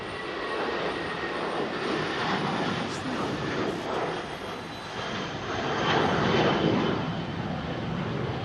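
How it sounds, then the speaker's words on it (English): Loud jet aircraft engines roar steadily at London Heathrow, a broadband rumble swelling and easing over several seconds, close and dominant with no talk. "Can I hear very loud aircraft engines behind me? Almost like jet fighters."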